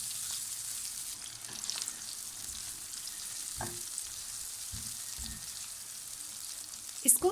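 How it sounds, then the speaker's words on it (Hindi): Ginger-garlic paste frying in a pan for a daal maash dish, a faint, steady soft sizzle with a few light scrapes and a clink near the end. "अब इसमें प्रिपेयर्ड अदरक लहसुन का पेस्ट ऐड कर देंगे और इसको भी 2 से 3 मिनट के लिए पका लेंगे"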